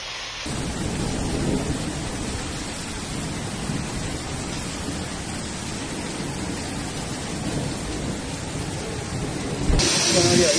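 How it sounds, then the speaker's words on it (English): Heavy thunderstorm in Spain with a dense, steady roar of downpour and hail, broad and loud throughout with rumbling undertones, growing slightly harsher at the very end. "the rain turned into a deluge accompanied by hail in just a few seconds"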